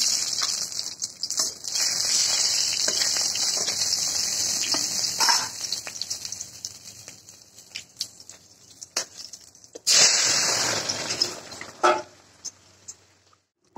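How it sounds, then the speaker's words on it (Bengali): Radhuni spice and dried red chillies sizzle in hot oil before drumstick leaves are cooked for pakoras. The frying hiss is loud at first, then fades, with scattered spatters and a fresh burst of crackling partway through. It is heard close up without speech. "তেল গরম হয়ে গিয়েছে, দিয়ে দেবো রাঁধুনি শুকনো লঙ্কা"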